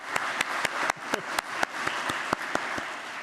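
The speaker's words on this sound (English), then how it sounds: "Can we please give another round of applause to Bonnie Amos and Sheila Casey?" At a military spouse employment summit, an audience breaks into sustained applause, a dense wash of clapping punctuated by regular sharp claps near the microphone.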